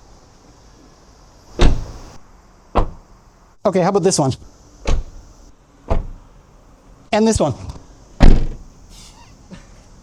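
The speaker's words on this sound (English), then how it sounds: "How about door close?" Car doors on a Honda Fit RS and Suzuki Swift Sport thump shut several times at irregular intervals, loud and close, with a few brief spoken phrases in between.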